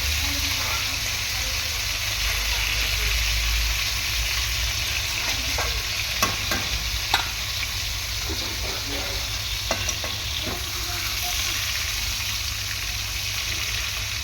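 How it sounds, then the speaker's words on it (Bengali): Snakehead fish being turned over in sizzling oil, a continuous loud fry with scattered sharp scrapes and clinks of a spatula in the pan. "উল্টে পাল্টে মাছগুলোকে ভালো করে দিয়ে"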